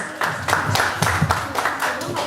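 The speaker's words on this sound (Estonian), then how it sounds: "Aplaus!" An audience at a 2017 playback show applauds a performer with dense, steady clapping from many hands, loud and sustained throughout.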